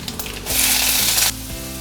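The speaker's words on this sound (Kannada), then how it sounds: "ಒಂದು ಕಡ್ಡಿಯಷ್ಟು ಕರಿಬೇಕು ಸ್ವಲ್ಪ ಲೈಟಾಗಿ ಫ್ರೈ ಆಗುತ್ತೆ ಅಂತ ವೇಟ್ ಮಾಡಿ" Curry leaves hiss as they hit hot oil and fry lightly, a sudden loud broadband sizzle that swells for under a second and then drops back to a quiet, steady crackle, with no voices.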